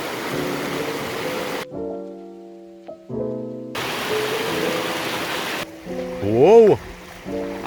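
Rain pours during a thunderstorm beside a river, a broadband hiss that comes and goes in stretches, broken by a voice and tonal sounds layered over it.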